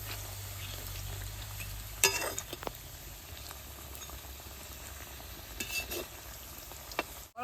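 Sweet pumpkin pitha rice cakes sizzling steadily in oil in a frying pan after being flipped, a close continuous crackle with a few light scrapes and clinks from a utensil, no talking.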